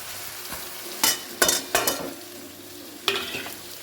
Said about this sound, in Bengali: এবার ভালো করে আমি কষিয়ে নেব চিংড়ি মাছটাকে